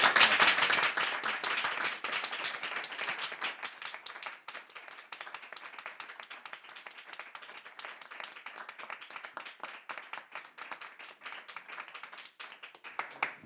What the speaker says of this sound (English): I ask for another round of applause to our wonderful panelists tonight.